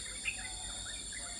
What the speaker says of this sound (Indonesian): kita jalan-jalan pagi dan mendengar suara burung berkicau sangat ramai